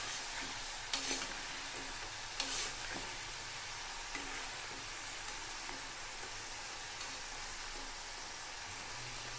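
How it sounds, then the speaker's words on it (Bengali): Moong dal pitha frying in hot oil: a soft, steady crackle and hiss, with a couple of sharper pops early on and no talking. "তেল আমার গরম হয়ে গেছে, পিঠে তৈরি হয়ে গেছে। এবার তেলের উপরে ছেড়ে দেবো।"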